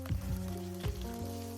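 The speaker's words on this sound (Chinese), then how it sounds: "像我们把猪手呢放进去，稍微煎一下，把水分煎干。" Pork trotters searing in scallion oil in a pan give a steady sizzle throughout, with a few brief louder spits and pops, over a low continuous hum.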